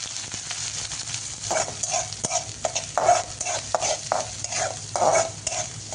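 Chopped onion and garlic sauté in hot oil for veg Manchurian, a soft continuous sizzle under a rhythmic series of spatula scrapes and taps against the pan, close and moderately loud, without any voices.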